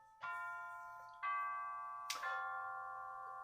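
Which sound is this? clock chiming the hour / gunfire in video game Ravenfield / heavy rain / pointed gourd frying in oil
clock chiming the hour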